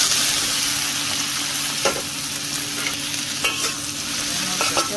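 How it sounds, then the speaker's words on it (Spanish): Potatoes fry in hot oil on a comal, giving a steady, loud sizzle up close with occasional pops and stirring scrapes, and no voices. "Nuestras papitas a dorarlas. Ya que estén doraditas, pues las vamos a sacar"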